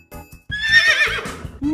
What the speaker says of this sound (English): A horse makes a Neigh.